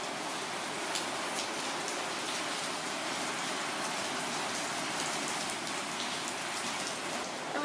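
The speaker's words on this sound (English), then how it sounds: "it does kind of stink that it's raining" Steady rain falls on surfaces around a courtyard building in Penang, Malaysia, a dense, even hiss of drops that holds constant for several seconds with no voices.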